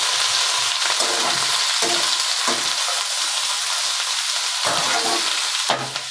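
Pointed gourd shoots, stems and leaves fry in a pan with salt, turmeric and ginger paste, giving a steady loud sizzle broken by a few soft stirring scrapes.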